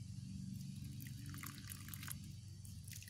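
Water trickles and drips steadily for a few seconds onto an eggplant cutting, a close, continuous splashing pour with no voices.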